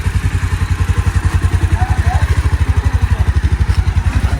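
Motorcycle engine running near Kanthalloor in Kerala, a steady fast thumping pulse close by with an even, unchanging rhythm and no clear startup or pull-away, loud throughout.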